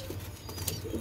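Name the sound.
pigeons cooing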